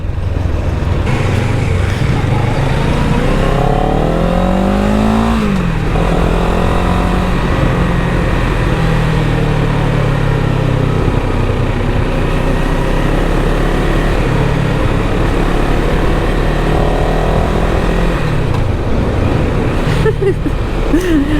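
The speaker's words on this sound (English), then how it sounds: "here's the deal with the sound of this bike" A 2023 CFMOTO 700 CL-X, a 700cc motorcycle, cruises at about 30 mph. Its engine holds a steady, loud drone mixed with wind rush, with a brief shift in pitch early on.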